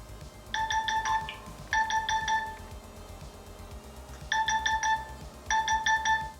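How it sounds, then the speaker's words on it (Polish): Anti-theft alarm on an Infinix Note 12 Pro phone, triggered when it is unplugged from the charger, sounds as a bright electronic ringtone-like chime in four repeated bursts over a low background rumble, with no talking. "Jeśli nie wpiszecie PIN-u, to po odłączeniu od ładowarki telefonu włączy się alarm dźwiękowy"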